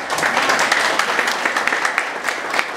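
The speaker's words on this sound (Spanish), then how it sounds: "Un aplauso para nuestro doctor Ángel Breña." An audience applauds steadily for a doctor, Ángel Breña, at a church gathering, a dense, continuous patter of many hands clapping at close range with no talk over it.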